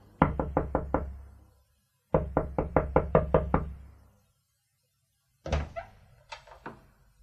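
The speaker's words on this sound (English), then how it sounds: "there was an urgent knock on my door" Two loud bursts of rapid knocking on a door, five or six sharp raps each, separated by a pause, followed by a third shorter, scrappier round of knocks; no voices.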